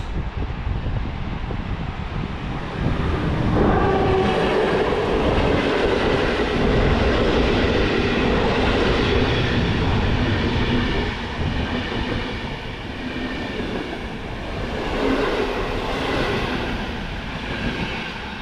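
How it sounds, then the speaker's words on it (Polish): A passenger train from Łódź Fabryczna to Gdynia Główna rolls slowly through Warszawa Toruńska station, a close, steady rumble with wheel clatter and squeal that rises, holds, and fades slightly over time. "powolny przelot"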